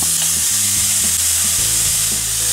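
Finely chopped bacon, six rashers, sizzles in a pot on a stove set to high, a steady bright hiss with low buzzing hum beneath and a few soft stirring knocks.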